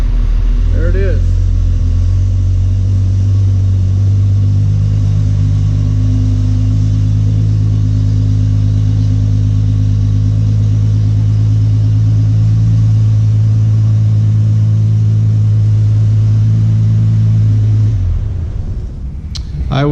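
A 1971 Triumph TR6 engine idles with a steady low rumble for a long stretch, running smoothly after starting, then cuts off near the end.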